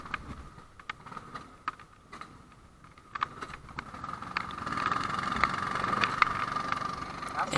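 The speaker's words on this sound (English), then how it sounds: "finally, starting the engine again, for the final time hopefully, and going away onto the track for the first time" A go-kart engine at a kart camp track on a rainy day, starting and then running at a steady buzzing idle that grows louder and rougher midway, close by and continuous.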